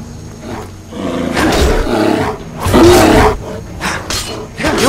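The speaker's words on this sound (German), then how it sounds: "Ich höre dich doch, Bär." A bear roars in Skyrim, a loud, growling bellow in several surging bursts that swell and fade across the stretch, with heavier blasts near the middle and end.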